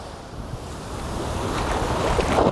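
Waves wash and surge against the shore, a constant noisy rush with wind buffeting close to the microphone, growing slightly louder toward the end.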